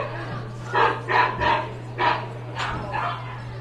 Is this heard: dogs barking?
yes